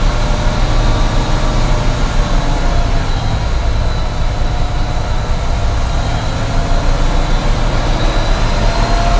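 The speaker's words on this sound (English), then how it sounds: "So I'm gonna apply the gas, build my RPM up so I can hurry up and build my air pressure up in my tanks." A truck engine revved to build air brake pressure in the tanks, a loud, steady low diesel roar held without pause, close by and alone.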